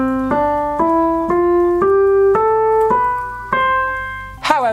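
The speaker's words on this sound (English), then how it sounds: "When we play all the white notes in sequence, it sounds like this." Piano notes on the white keys are played one at a time in an ascending run, about eight clear ringing tones stepping steadily upward, each sustaining until the next, ending with a brief sharper sound.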